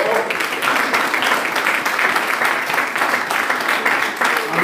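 A church congregation applauds and cheers loudly and steadily throughout, a dense wash of clapping from many people in a large hall, with no clear speech over it.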